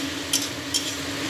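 A spoon stirs soda curry in a pan with steady faint scraping and a low sizzle, and two short scrapes stand out briefly.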